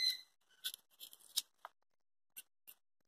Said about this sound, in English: You're pushing the knife edge against the ginger. And you're scraping the skin off.